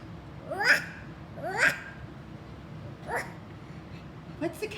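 A baby imitates a dog barking, giving three or four short, high woofs with pauses between them, close up against a quiet room.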